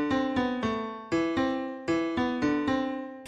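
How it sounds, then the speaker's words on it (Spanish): Steinway grand piano virtual instrument plugin plays a sequence of clear, sustained chords and notes, each struck attack ringing with rich harmonics and decaying before the next, close and alone with no talking. "Luego tenemos el Steinway Piano."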